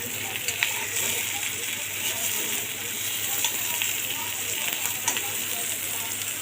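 Stuffed bitter gourd sizzles in a pan of oil, a steady close crackling hiss with occasional sharper pops throughout.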